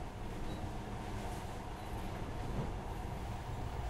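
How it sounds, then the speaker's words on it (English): Monorail train running in the post-apocalyptic shooter Metro: Last Light, a steady low rumbling ride with faint rattling, moderately quiet and without voices. "In the past, trains were ordinary things. But now, this monorail seems magic, doesn't it?"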